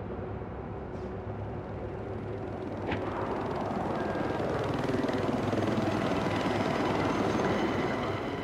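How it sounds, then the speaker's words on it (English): An enemy helicopter in the video game Battlefield 4 gives off a continuous loud rotor and engine drone that gradually grows stronger, with a couple of brief sharp game effects early on. "发现了敌军直升机，发现了一名敌兵。"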